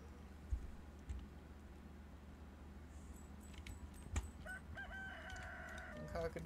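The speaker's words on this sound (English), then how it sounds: "Cock-a-doodle-doo." A rooster crows at dawn in the farming video game Stardew Valley, a short faint call partway through, over steady low background sound with a few clinks.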